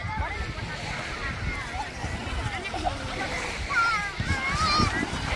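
Children splash and play in the sea at a white-sand beach in North Lombok at sunset, with steady sloshing water and waves and chattering children's voices nearby.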